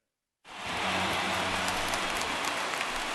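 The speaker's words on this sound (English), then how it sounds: "There is rain in the area" Steady rain hisses in a ballpark during a video game baseball broadcast, a dense, even wash of falling water that starts abruptly and holds at a constant loud level.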